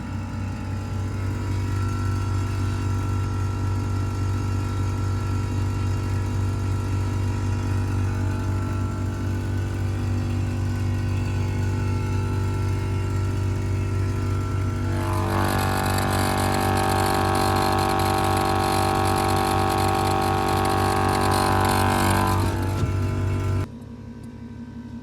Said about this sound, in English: And then now I'll switch over to the Air Zenith compressor.